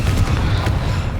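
Confringo fire spell blast in Hogwarts Legacy, a loud, deep rumbling boom that fills the brief moment with heavy low-end roar and crackle.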